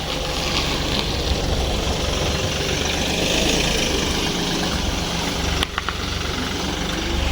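A car engine idles steadily and fairly loud close by while the car is reversed into a parking spot, with one brief knock or thump near the end and no talking.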